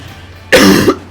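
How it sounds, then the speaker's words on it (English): A single sharp cough, loud and close, with a short second burst right after it, during a Super Smash Bros Wii U gaming session. "I keep on coughing."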